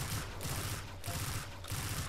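Rapid bursts of gunfire in the video game Destiny 2, three dense volleys of crackling shots in quick succession, loud and close with no talk.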